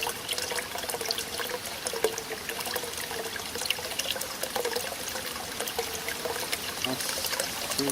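Surface water trickles steadily through a small flow measurement point outdoors, a constant light babbling and dribbling heard close by with no talk over it.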